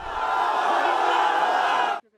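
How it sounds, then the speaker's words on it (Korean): A crowd in Syria erupts in loud, sustained cheering and shouting as a family with young children is pulled from earthquake rubble, a dense roar lasting about two seconds before cutting off abruptly. "국경 건너편 시리아에서도 폐허 더미에서 어린아이들을 포함한 일가족이 구조되자 환호성이 터져나옵니다"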